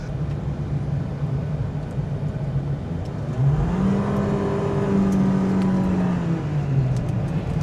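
A Proton Saga MC3 with a 1.5L engine and CVT transmission accelerates in sport mode. A steady engine drone from inside the car rises into a smooth, climbing rev that holds high and then eases off.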